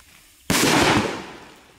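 A powerful firework, sold as the loudest on the market, bursts in water with one sharp loud bang at about half a second, followed by a broad washing splash and roar that slowly fades over the next second.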